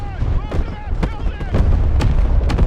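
A TOS rocket artillery strike lands in the video game Broken Arrow as a rapid series of heavy booming impacts that roll continuously through a dense, loud barrage.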